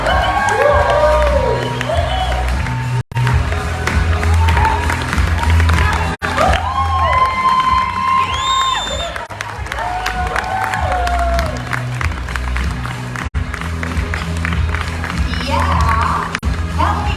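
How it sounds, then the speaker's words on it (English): A conference audience cheers and claps as a product panel walks on stage, loud applause mixed with whoops and shouting, with amplified voices and music-like tones running over the crowd. "Let's give a big round of applause for Jazz, Kushbu, Sandy,"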